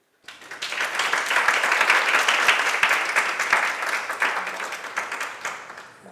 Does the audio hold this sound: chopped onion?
no